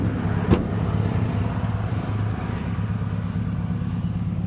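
A Mitsubishi car engine idling nearby with a steady, even rumble, joined by one short sharp click early on and no talking.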